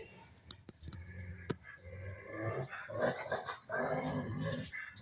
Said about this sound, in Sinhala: බිලි ගොරවනවා අරන් එන්න.